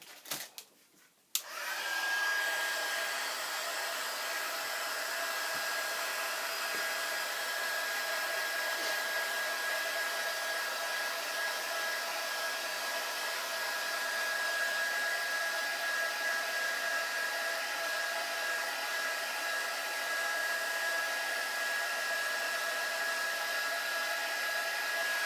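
A heat tool drying inks and paints on a wet paper mini envelope book blows with a steady, loud, continuous whir after a brief start-up, holding constant for over twenty seconds with no voices.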